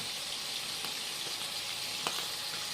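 Chicken pieces sear and brown in a hot pan for Filipino binagoongan, a steady broad sizzle holding even throughout with a few faint pops and spatters, no voices present.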